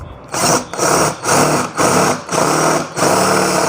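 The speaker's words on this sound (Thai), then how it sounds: "ผมปรับมาที่โหมดเจาะนะนี่นะครับท่านผู้ชม จะทำการนี่ใส่ดอกสว่านแล้ว แล้วก็ผมจะเทสนะครับ โดยการเจาะเหล็กตรงนี้นะครับ" A cordless battery drill bores into steel in repeated bursts, its high whining motor revving loud and close about six times with brief pauses between each run, and no voices.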